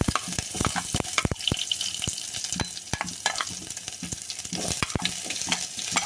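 Onion frying in hot oil with curry leaves in a pan, a loud continuous sizzle broken by frequent sharp clicks of a spatula stirring and scraping.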